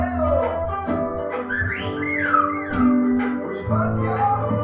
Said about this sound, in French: C'est une île de paradis où les humains sifflent aussi.